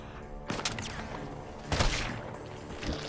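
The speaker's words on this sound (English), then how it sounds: "Gunshots are coming from that barn!" Gunfire from a barn in the video game Red Dead Redemption 2 rings out as a few sharp, loud reports with echoing tails, the strongest burst coming near the middle.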